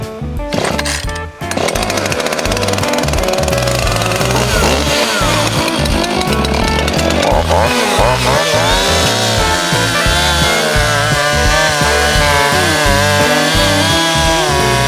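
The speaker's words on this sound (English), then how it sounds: "Where are you going with that big mean chainsaw? We'll see if I can cut me down a tree" A chainsaw cutting down a tree at an off-grid cabin runs loud and steady close by, its engine revving and bogging as the chain bites into the trunk, after a brief sputtering start.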